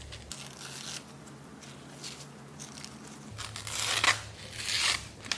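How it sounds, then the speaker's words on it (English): Paper is torn away from a collage in a few slow rips, a soft tearing that swells to louder crisp bursts toward the end, close and quiet with no talk. "I know it's too soon to tear this away."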